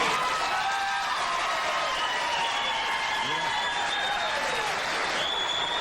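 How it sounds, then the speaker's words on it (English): A television studio audience gives sustained, even applause, a dense wash of many hands clapping at steady volume throughout, with faint cheers mixed in. "How many of you would applaud, be honest now, if the applause sign had not gone on?"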